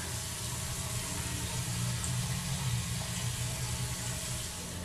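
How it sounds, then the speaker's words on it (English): Water runs steadily from a newly installed bathroom sink faucet, a constant close rushing and splashing into the basin with no pauses. "And the moment of truth, we've got water"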